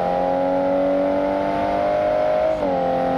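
A Toyota Supra with nitrous engaged in BeamNG.Drive makes a loud, steady high-revving engine drone, with a brief dip and pitch drop like a gear shift near the end, and no voices.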